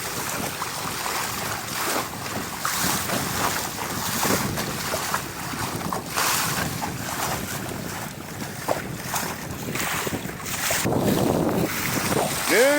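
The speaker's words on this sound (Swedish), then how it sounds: "Jag tänkte segla till Röre men det blåste för mycket." A sailboat runs fast in strong wind, with heavy gusts buffeting the microphone over rushing water and waves slapping the hull. The roar is continuous and close, and no one speaks.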